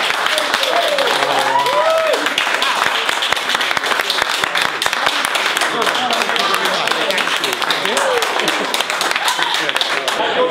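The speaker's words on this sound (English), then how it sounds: "I think we should give him a special round of applause." Partygoers at a Magic Circle event give a round of applause, lively clapping with some crowd voices and cheering mixed in, loud and continuous from start to finish.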